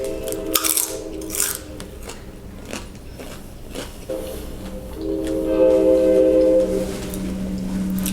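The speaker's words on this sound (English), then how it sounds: "Do you guys hear that train?" A train rumbles past in the distance, its low drone swelling louder toward the end with a faint horn-like tone.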